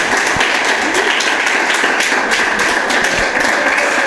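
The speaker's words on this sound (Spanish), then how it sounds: "Muy bien, fuerte aplauso." An audience at a Valencian Fallas event, the 2019 Fallera Mayor preselection, breaks into loud, dense applause that continues steadily without a pause, with faint voices mixed in.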